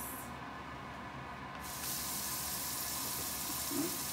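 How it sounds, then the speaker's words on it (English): A hissing spray of water from a kitchen sink sprayer starts up partway through and continues steadily, close by, with no talking. "Just kind of spray the water on it"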